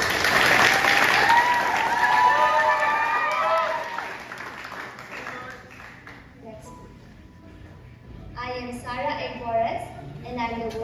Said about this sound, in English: Let us give her a warm round of applause.